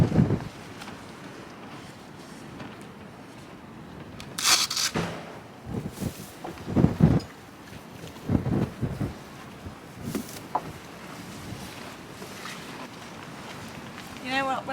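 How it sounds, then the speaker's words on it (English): Gusty wind buffeting the microphone while riding a horse cross country, rumbling bursts that rise and fade irregularly over steady low roar, with occasional soft hoof or movement thuds. "I hope it's not too windy. Very windy."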